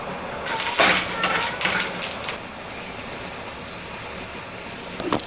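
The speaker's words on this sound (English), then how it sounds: "Can you hear that whistle?" A shrill, steady high whistle starts partway through and holds over the crackle and sizzle of onions and garlic frying in oil close by.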